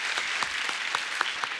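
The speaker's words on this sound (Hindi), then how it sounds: "और एक बार जोरदार तालियां हो जाएं अजय सर और काजल मैम के लिए" Applause from a TV comedy show audience for Ajay Devgn and Kajol: a fairly quiet, even patter of clapping with a few sharper claps standing out.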